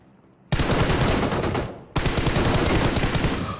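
Automatic gunfire in a battle royale video game, two long loud sustained bursts of rapid shots separated by a brief pause, with no talking.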